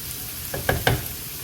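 Peppers and tomatoes sizzling in oil in a pan with softened onion for traditional Albanian fërgesë, a steady fry hiss broken by three quick scraping stirs close by, no talk.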